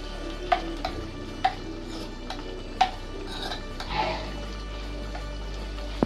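Chicken mumtaz gravy with a ground paste stirred and sautéed in a pan, a low sizzle with a few distinct spoon taps against the metal, under a steady background hum.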